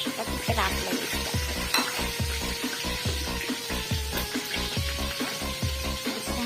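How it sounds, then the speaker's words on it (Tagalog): Fish sizzles in a pan of frying onion, salt and spices while it is stirred in a steady, regular rhythm of scraping strokes over a constant close hiss. "So, we'll add our fish."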